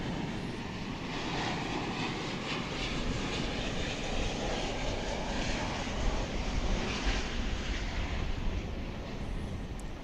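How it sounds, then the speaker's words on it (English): Passenger jet on the Venice flight arriving at DFW Airport at night, a distant, steady engine roar that swells gently and holds throughout without talk. "I don't think this plane normally comes in at this time of night here, this flight from Venice."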